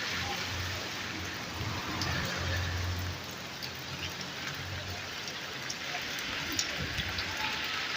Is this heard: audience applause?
no